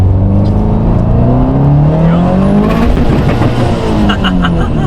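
A tuned stock-motor car makes a full-throttle pull, a loud, close engine roar rising in pitch through the revs and then turning ragged near the top.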